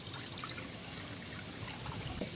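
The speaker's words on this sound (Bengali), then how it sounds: "জল দিয়ে দিচ্ছি।" Water trickles and pours steadily into a cooking pot on a lit stove, ready for boiling lentils, a soft continuous splashing at low level.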